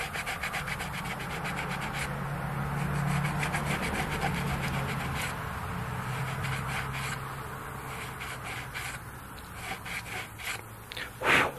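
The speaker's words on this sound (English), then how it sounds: "I'm going to hold my sandpaper like that. And we're just going to work the very center. This 100 grit will really start taking that off." Sanding the center of the last frets on an Ibanez RG470 guitar neck with 100 grit sandpaper by hand, a steady rhythmic rasping rub that continues close and fairly loud throughout, ending with a brief sharper scrape.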